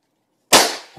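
A single rifle gunshot is fired out of an open window of a home in Akron, a sharp, loud crack that bursts in after half a second of silence and decays quickly.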